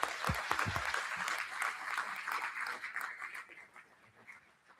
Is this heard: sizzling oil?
no